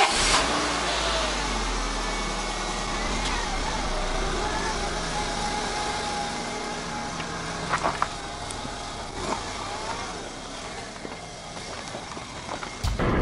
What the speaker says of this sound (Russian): вот сейчас передвигаемся по ночному Барнаулу